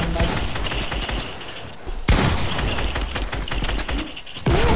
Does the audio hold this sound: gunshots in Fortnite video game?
yes